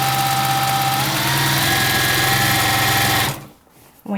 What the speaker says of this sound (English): So let's sew all the way around our receiving blanket with a small stitch.